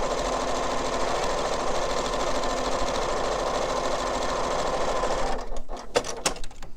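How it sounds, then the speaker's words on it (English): A sewing machine runs steadily and close up, stitching two strips of quilting fabric together with a dense mechanical whir. It stops near the end, leaving a few sharp clicks and handling knocks. "you're just going to take these two and just sew them together"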